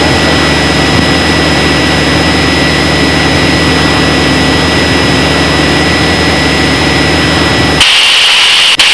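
Steady, loud drone of a small training airplane's engine in flight during a flight lesson, a constant roar with a high whine that holds unchanged, then cuts off abruptly near the end.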